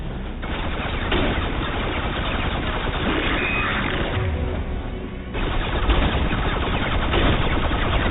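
Sustained heavy gunfire in a video game, a continuous muffled clatter of overlapping shots that keeps up without pause at steady loudness, with no talking.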